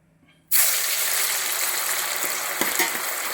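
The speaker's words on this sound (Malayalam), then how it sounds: "എണ്ണ നന്നായിട്ട് തിളച്ച് ഇതിലോട്ട് മീൻ കഷ്ണം ഇട്ട് കൊടുക്കാം." Fish pieces dropped into hot coconut oil for Kerala-style fish pickle, bursting into a loud, steady sizzle after a brief quiet start. The frying hiss stays close and continuous with a few small pops.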